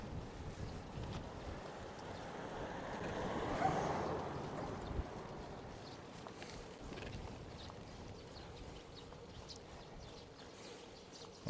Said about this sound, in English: it's pretty breezy right now